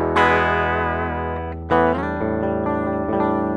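An electric guitar through a NUX MG30 multi-effects pedal rings out in sustained chords, a long held strum followed by a fresh attack and a few more, played alone with a fairly clean tone.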